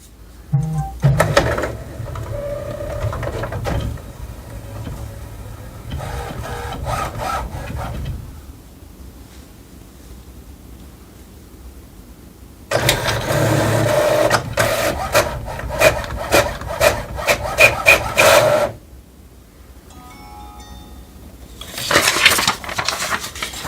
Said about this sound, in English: So this is the first printout from your HP OfficeJet Pro 9135E printer.